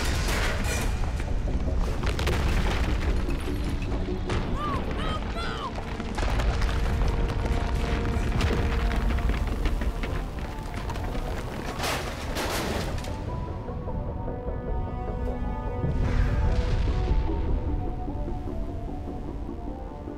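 Pistol fire in Mass Effect: a steady barrage of close shots over a heavy rumbling hum and booming combat noise, continuous and loud throughout.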